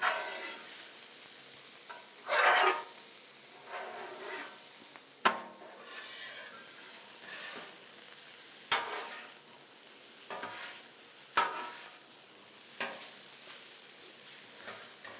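Chopped vegetables stir-fried in a pan for a hamburger cheesesteak, a steady sizzle broken by repeated sharp scrapes and clacks of a utensil against the pan, fairly close and moderate in level, with no talking.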